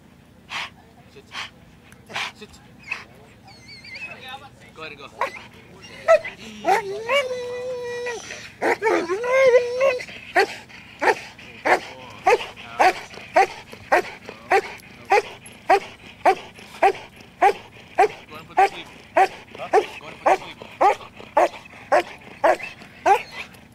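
A dog whimpers and yips briefly near the start, then breaks into a long, steady run of loud, close barks at a quick, even rhythm. People talk faintly in the background.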